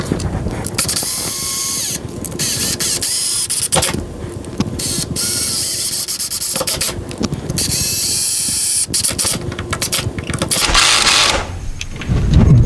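Electric screwdriver driving hinge screws into a sticking door, a loud continuous mechanical whir with ratcheting, clicking bursts that stop and restart several times across the stretch, no talking.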